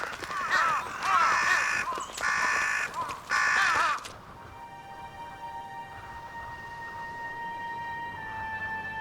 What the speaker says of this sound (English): The angry crows are left squabbling over scraps.